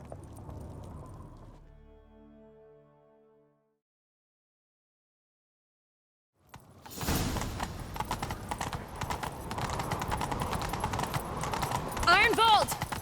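Horse hooves gallop in The Witcher 3 during a chase, rapid clip-clop beats rising after a silent gap, layered with game music and effects and growing louder toward the end.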